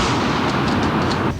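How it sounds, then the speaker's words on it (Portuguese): A gun salute volley fired at a funeral for police officers, a heavy, booming blast with a long rumbling tail that fills the space, followed by faint sharp cracks. "No velório dos policiais, uma salva de tiros."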